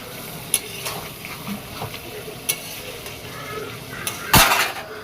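Ground spices, including Kashmiri chili powder, sauté in oil with potato, bay leaf and onion for chicken biryani, a low sizzle under scattered clinks of a spoon against the pot and a brief louder scrape near the end, with no speech.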